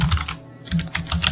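Quick, uneven bursts of key presses come from a computer keyboard as Python code is typed, close and clear, with no talking over them.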